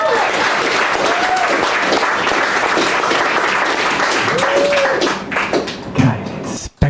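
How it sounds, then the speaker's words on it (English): Sustained audience applause at a Perth poetry club open-mic night, dense clapping from a room of listeners with a couple of cheers and whistles, loud and steady before tapering off near the end. "that deserves another round of applause"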